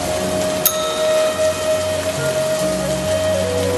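Steady, loud cartoon rain pours down continuously with a constant hiss over a low rumbling drone and a faint tonal hum, without speech.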